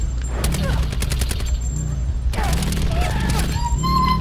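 Rapid, loud bursts of automatic gunfire in an online battle royale shooter, fired in repeated rattling volleys with brief pauses, while players shout over the shots.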